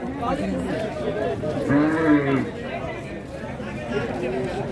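Cattle at a busy night-time Qurbani livestock market: one drawn-out, moo-like call rises briefly above a constant bed of crowd chatter and voices.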